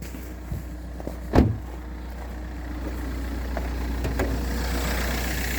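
Opel A13DTE diesel car engine idling steadily after several days of decarbonizing treatment with dimexide (DMSO), a low continuous hum heard up close with a brief louder knock early on and no talk.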